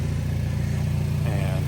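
A Hyundai Elantra N fitted with a Sonata high-pressure fuel pump idles, giving a steady, close, low engine drone throughout. A faint voice briefly surfaces near the end.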